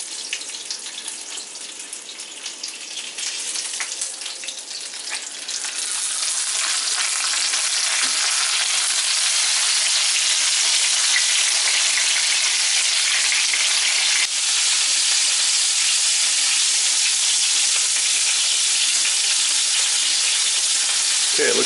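Breaded chicken katsu cutlets fry in a skillet over medium heat. A moderate hiss swells into a loud, dense, sustained sizzle as a new batch goes in, then holds strong and close with no talking.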